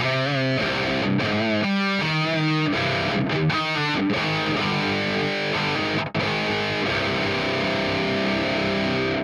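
A heavily distorted electric guitar plays through a 6505+ amp boosted by a Fortin Tempest pedal, with loud, continuous palm-muted chugs and ringing chords packed close together and held without a break.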